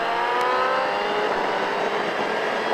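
A race car accelerates out of a corner on a track, its engine note climbing steadily and loud, close to the microphone, with no talk over it.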